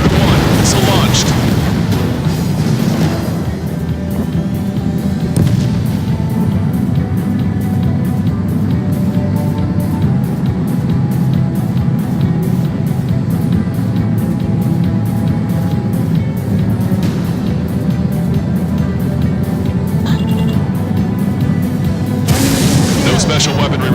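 Missile launches and explosions rumble through an Ace Combat 7 air battle, with deep continuous jet roar and booming blasts near the start and end, alongside a radio voice.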